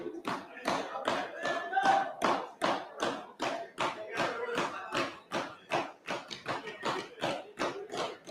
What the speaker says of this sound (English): Thanks for the very unusual applause for the House Leader on the motion.